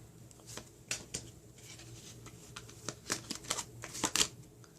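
A tarot deck is handled and cards are drawn one by one, giving soft papery flicks and slides with brief snappy peaks, close and quiet against faint background noise.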